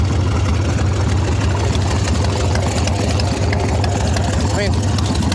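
A black Harley-Davidson Evo Softail motorcycle sits idling in neutral, its loud, deep, lumpy engine rumble steady and close for the whole stretch.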